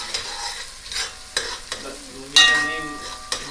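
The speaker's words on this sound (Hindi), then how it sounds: "अभी हम लोग का बन रहा है मिक्स वेज।" Mixed vegetables stirred and frying in a pan at an outdoor campsite, with sharp scraping utensil strokes over a soft sizzle, several distinct stirs spaced through the stretch.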